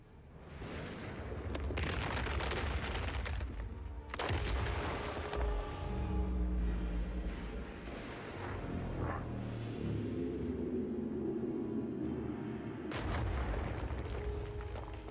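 Loud, repeated gunfire blasts and heavy booms in quick bursts in the video game Lost Ark, with explosive rumbles and ringing tones between them, no talking.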